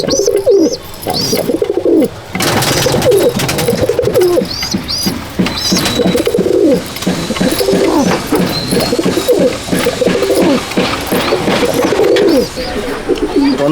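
Madrasi pigeons coo in a loft, repeated throaty rolling calls from several birds close by, with occasional higher chirps and a brief thump of movement early on.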